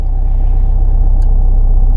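A new car drives along, heard from inside as a loud, continuous low engine rumble with steady road noise and no break.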